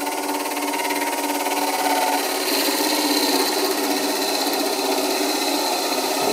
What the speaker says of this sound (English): you can see the motor's not really powerful enough to take this deeper cut. It's slowing down.